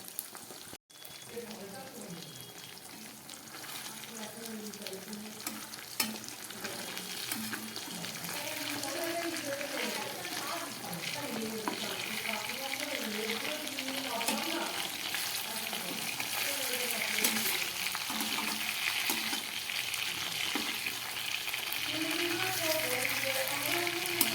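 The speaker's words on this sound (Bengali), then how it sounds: "তাহলে মাছটা ভাজা হচ্ছে" Pieces of fish fry in a pan with a continuous bubbling crackle that swells gradually over about twenty seconds, with a spattering texture close by and faint background noise.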